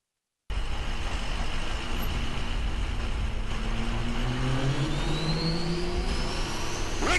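A big Peterbilt diesel truck roars and accelerates at a drag race at Wild Horse Pass Motorsports Park, a loud, steady engine drone with rising pitch over several seconds.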